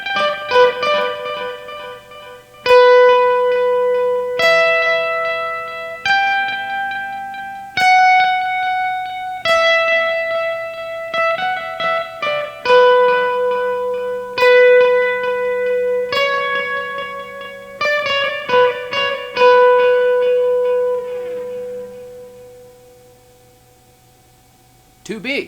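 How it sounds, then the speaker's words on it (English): A guitar played through a Boss DD-500 delay pedal on the Parallel World dual delay preset at 428 ms, single plucked notes and chords ringing with repeating echoes that trail off into a fading tail. "2A, Parallel World, a dual delay at 428 milliseconds."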